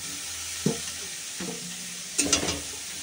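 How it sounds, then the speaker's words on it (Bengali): Eggplant frying in hot oil in a pan is stirred, with a few separate scraping strokes, the last a quick double scrape, over a constant close crackling sizzle. "তেলে বেগুনটা দিয়ে দিলাম, একটু নেড়ে চেড়ে তারপর শাকটা দেবো।"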